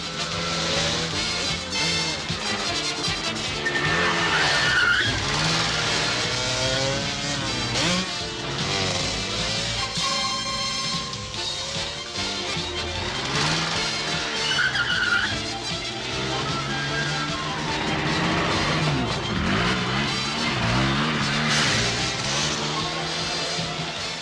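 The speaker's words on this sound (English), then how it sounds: "Zenigata and Lupin having a race on top of a giant face" Racing cars in the 1985 Lupin III animated movie Legend of the Gold of Babylon roar and skid continuously, with revving engines, tire squeals and a busy music-like soundtrack layered throughout.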